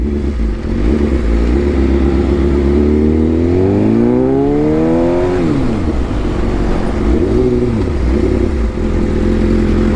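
A sport motorcycle engine, such as a BMW S1000RR or Yamaha R15, revs hard during a long wheelie, its pitch climbing and falling in loud sweeps over a constant close engine drone.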